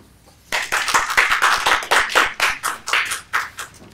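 An audience at an education session claps their hands in a burst of distinct, separate claps, close and fairly loud, starting after a short quiet moment and running steadily to the end.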